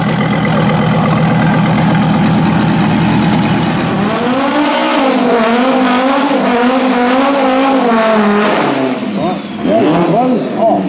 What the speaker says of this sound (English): Here's the Audi RS3.